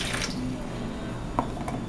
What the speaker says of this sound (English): You add 1 cup of water